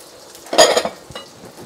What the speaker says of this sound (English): So we just add all of our egg at once